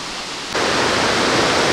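Big Falls in Sir Richard Squires Memorial Park, Newfoundland, pours brown water downstream. A dense, constant roar of falling water cuts in abruptly and stays loud and close.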